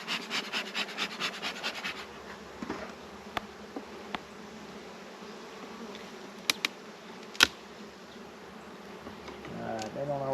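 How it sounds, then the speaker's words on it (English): A soft, steady buzz of many honeybees in an open hive fills the air, with a few scrapes and clicks early on and occasional brief sharp knocks. "Peppermints are a good natural treatment to help the bees repel the small hive beetles"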